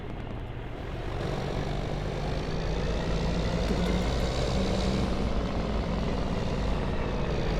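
A heavy lorry engine in the Farming Simulator 25 game, set in vintage Canada, drones continuously and loudly, building slightly in strength and holding a steady low rumble with no talk over it.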